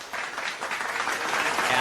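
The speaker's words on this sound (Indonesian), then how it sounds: "Tepuk tangan sekali lagi Bu," Audience at a family group training event applauding, a steady burst of clapping from a gathered crowd, moderately loud, with some talk mixed in.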